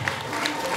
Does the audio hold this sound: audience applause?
yes